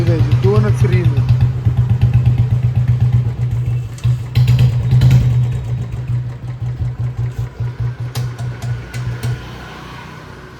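A motorbike engine held at a steady idle without revving, close and loud, chugging in a fast even pulse that stumbles and slows briefly midway before settling back, with people talking over it.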